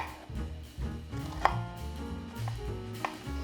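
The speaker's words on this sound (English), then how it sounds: "I'm gonna dice up this onion" Knife slicing half an onion toward the root end, soft repeated cuts against a board with a couple of sharper taps, quiet and close, no talking.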